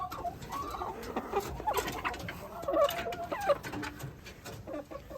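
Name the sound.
chickens clucking in coop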